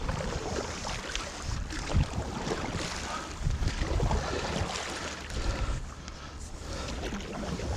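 A kayak paddled along a river, with soft irregular splashes and water swishes close by, mixed with light wind buffeting on the microphone and no talk.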